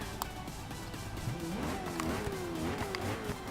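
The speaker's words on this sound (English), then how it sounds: "Let's go and rev it." A Koenigsegg One:1 engine revs in Forza 6 at the Rio track, a rising and falling engine note over steady background noise, moderately loud with no talking.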